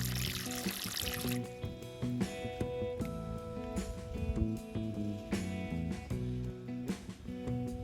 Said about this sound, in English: Now I'm watering the first pot.